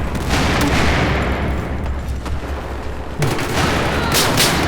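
Battlefield 4 multiplayer combat with dense, continuous gunfire and heavy booming explosions, loud and close, building to a fresh burst of blasts near the end.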